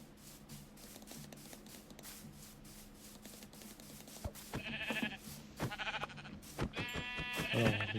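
Sheep in the game Minecraft bleat several times in short, nasal cries over a steady background of game ambience and soft shuffling noise, with no voices.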